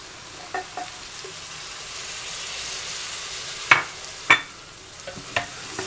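Two medium tomatoes drop into tripe sizzling in a pan, a steady frying hiss with several sharp spattering crackles and a couple of louder pops midway.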